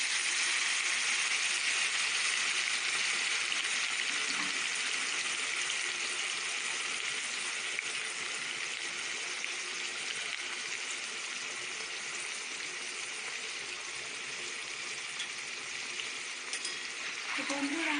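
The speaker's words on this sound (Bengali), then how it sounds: "আমি এবার এই চিকেনগুলোকে কড়াইতে দিয়ে দেব।" Marinated chicken sizzles and fries in oil in a kadai with fried onions, making a steady, bright hiss that runs continuously at close range with faint clinks near the end.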